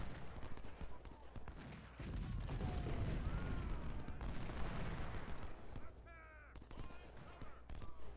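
Cannon and gunfire from a Civil War battle in Ultimate General: Civil War rumble in a dense, continuous barrage. Repeated booms and crackling shots layer over one another at a moderate distance.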